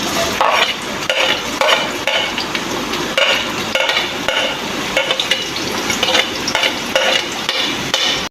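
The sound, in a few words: onions frying in leftover oil in a pan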